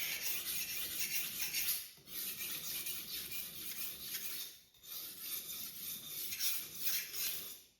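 A Damascus Miyabi knife edge worked on a Japanese waterstone makes close, steady rasping strokes in long back-and-forth passes, with brief pauses between runs.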